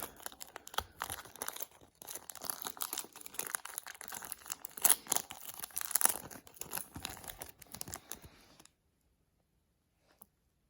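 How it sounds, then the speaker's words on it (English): Tape is peeled and torn from crinkly plastic packaging around a model parcels van, giving a close, continuous run of crackling, ripping and rustling for about eight seconds before falling silent. "If I can kind of remove the tape."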